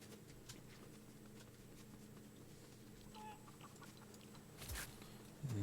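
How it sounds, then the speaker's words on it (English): A chicken clucks in Fortnite, giving soft, scattered clucks over low game ambience and footsteps, with a louder sound near the end. "Noisy chicken."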